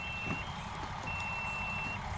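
A cheap multimeter gives faint, high continuity beeps during a ground check on a 1984 Monte Carlo SS, two thin steady tones, the second longer, over quiet background noise.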